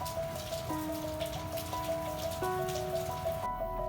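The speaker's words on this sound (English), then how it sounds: "Just another rainy day in London." Rain falls steadily in London, a close dense hiss of drops pattering on surfaces, with a sustained humming tone running underneath that shifts pitch a few times.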